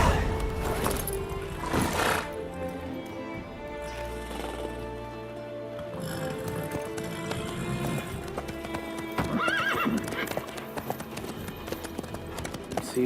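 Horse hooves clip-clop in The Witcher 3: Wild Hunt, a steady run of hoofbeats with a whinny and game ambience and music underneath, close and moderately loud.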